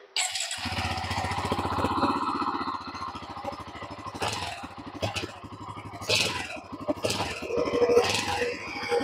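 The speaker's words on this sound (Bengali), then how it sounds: "যেটা একবার ইঞ্জিন সাউন্ডটা আপনি শুনিয়ে দিচ্ছি" A Bajaj Pulsar N160 motorcycle with an underbelly exhaust starts up and idles close by with a rapid, throbbing putter, then is revved in several short bursts.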